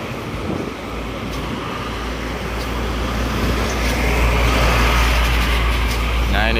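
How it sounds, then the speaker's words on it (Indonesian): A tour bus pulls out of a bus company garage, its engine rumbling low and steadily building as it moves, with background traffic noise and some indistinct voices nearby. "Ini bus mulai meninggalkan garasi terminal garasi area atau divisi pariwisata."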